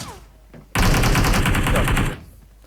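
M762 rifle fire in PUBG Mobile, a loud sustained automatic burst of rapid rounds lasting over a second, close and dominant, with quieter game ambience before and after.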